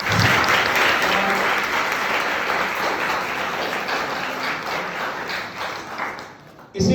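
Students at a college function applaud a guest, a dense, loud sustained round of clapping from a large audience that runs for several seconds before tapering off abruptly.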